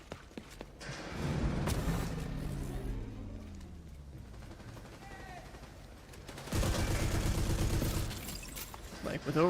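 Very rapid gunfire from an overdriven weapon with a holster in The Division 2, a dense stream of shots in sustained bursts with a louder burst near the end, under a talking voice.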